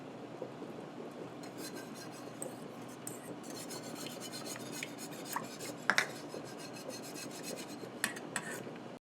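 A whisk scrapes and rasps steadily against a pot as Parmesan cheese melts into a white pasta sauce, soft and close, with a few sharper clinks of metal.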